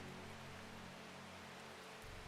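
In the video game Strange Horticulture, rain patters in a continuous soft hiss, a low thump entering near the end; no voices are heard.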